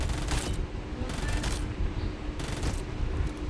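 Gunfire in a battle royale mobile game, a dense, continuous rattle of automatic shots filling the whole stretch at steady loudness.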